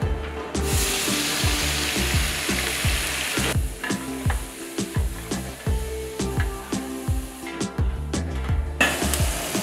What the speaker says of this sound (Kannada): ಲೈಟಾಗಿ ಫ್ರೈ ಮಾಡ್ಕೋಬೇಕು ಎಣ್ಣೆಯಲ್ಲಿ